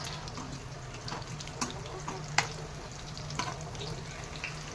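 Bhetki fish fingers frying gently on a low flame, a soft continuous sizzle and crackle with occasional small pops and clicks, close but quiet.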